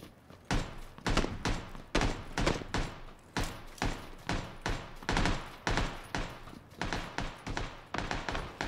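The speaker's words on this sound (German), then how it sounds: "Also ihr könnt schießen. Schieß mal bitte, schieß mal." Gunfire in PlayerUnknown's Battlegrounds cracks out in a long run of evenly spaced, punchy shots, close and loud, several per second with brief gaps between volleys.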